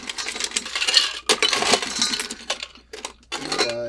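Ice rattles hard inside a cocktail shaker in rapid, clattering bursts, loud and close, with brief pauses between rounds of shaking, while mixing a tequila-lime cocktail.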